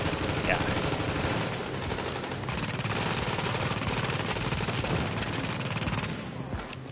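Sustained automatic gunfire in The Division survival mode, rapid continuous bursts of shots loud and close over the whole stretch, with a brief dip near the end.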